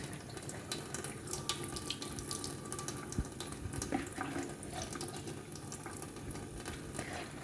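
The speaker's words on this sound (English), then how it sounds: "We have completed washing the meat." Beef shank being washed under a running kitchen tap, a steady, faint splashing stream of water into a sink with small clatters, continuing evenly throughout.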